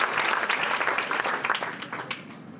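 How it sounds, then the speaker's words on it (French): Audience at a sports technology conference giving a short burst of clapping, dense and even, tapering slightly toward the end. "donc on peut les applaudir"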